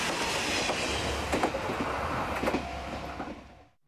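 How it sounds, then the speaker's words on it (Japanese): A train runs along the straight, gently graded Sakai Line in rural western Japan, its steady rumble and broadband roar carrying rhythmic wheel clicks over rail joints before the sound fades out. "遠くからでも近づいてくる列車を見ることができます"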